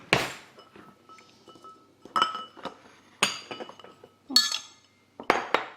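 A utensil clinks and taps against a bowl while eggs are stirred together with coconut milk, giving irregular bright knocks and scrapes at close range with quiet pauses between them.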